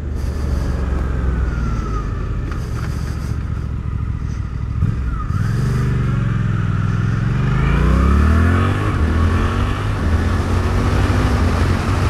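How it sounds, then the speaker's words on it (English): A 2024 Suzuki GSX-8R motorcycle accelerating, its engine loud and near, pitch sweeping upward through the revs and dropping between gear changes. "You can tell it's a naked bike engine."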